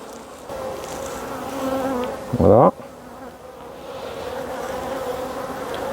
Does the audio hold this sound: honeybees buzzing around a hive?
yes